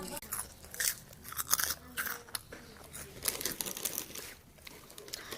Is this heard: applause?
no